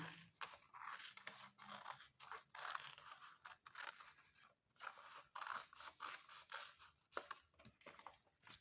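Scissors cutting a folded white and blue double-sided paper strip along its fold line for a children's appliqué craft, with repeated quiet, close snipping and crisp paper crunches in a steady rhythm.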